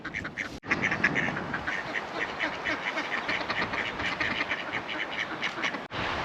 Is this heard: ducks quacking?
yes